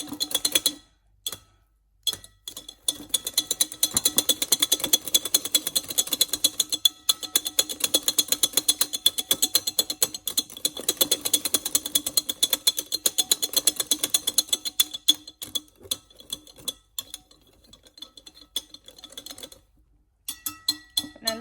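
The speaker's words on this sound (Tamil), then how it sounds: "நல்லா மாவையும் சேர்த்து நல்லா மிக்ஸ் பண்ணுறோம்" Chocolate lava cake batter is mixed with flour in a bowl, giving a quick, continuous rhythmic clatter and clinking of the utensil against the bowl, with a few brief pauses.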